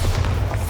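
A short, heavy low boom from the Bombarda blasting spell in Hogwarts Legacy, loud and close, one quick thump.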